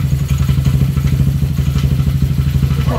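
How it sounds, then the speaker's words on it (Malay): A Yamaha Nouvo S motorcycle engine runs loud and close, a steady pulsing idle-to-pull-away throb with slight clatter as it sets off. "Motor ni akan berangkat ke Taiping."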